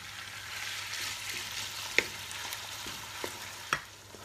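Pine nuts and coarse minced lamb fry in hot oil, a steady close sizzle with a few sharp scrapes and clicks of stirring scattered through.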